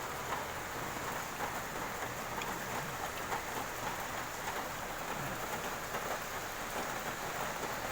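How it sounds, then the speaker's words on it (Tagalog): Steady, dense rainfall patters continuously on surfaces, even and unbroken throughout, with no voices. "medyo maulan dito ulan dito ngayon guys"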